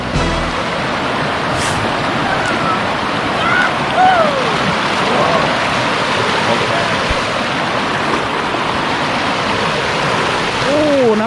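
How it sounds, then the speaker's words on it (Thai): A small waterfall on a cold creek in Khon Kaen pours in a steady, loud broadband rush that fills the whole clip, with brief chirpy tonal calls rising above it. "ไม่คิดว่าจะมีน้ำตกนี้นะครับ"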